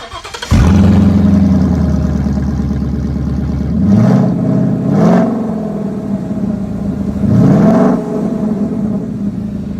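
A 2017 Ford Mustang GT with a V8 and no exhaust, straight pipes from the manifold, cranks and catches, then idles loudly and close, with three sharp blips of revving around a rough, throbbing idle.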